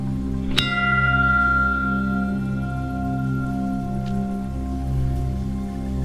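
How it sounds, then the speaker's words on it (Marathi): A single bright metallic temple bell strike rings out at an ashram in Manori, Mumbai, and its tone lingers, slowly decaying over a steady low background hum. "घंटा वाजून घेऊया"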